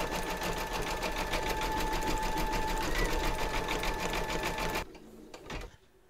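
A large vintage sewing machine runs a zigzag stitch in a fast, steady mechanical chatter close up, then stops, leaving a few faint handling sounds.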